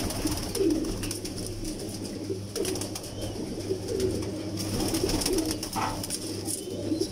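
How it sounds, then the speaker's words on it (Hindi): Pigeons coo steadily throughout, a low repeated hooting from birds close by in a domestic loft, with other bird calls mixed into the background. "बहुत बड़ा कबूतर आया माशाल्लाह"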